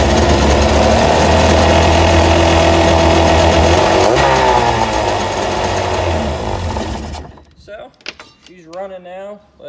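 A 2004 GTI 716 two-stroke personal watercraft engine runs loud and steady for about seven seconds after a carburetor rebuild, then cuts out, leaving quiet background with a few faint clanks.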